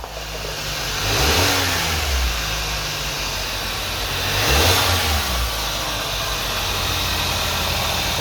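A 2016 Kia Sorento turbo engine idles steadily, then revs up twice in short rising sweeps about three seconds apart before settling back to idle, loud and close.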